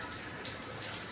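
Water poured onto the sealed edge of milk gokul pitha dough, a steady close wash of liquid trickling and splashing without pause.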